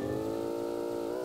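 A fast speed bike in the Roblox video game, heard as a steady, buzzing engine drone with a strong harmonic hum that holds at a constant pitch for a moment.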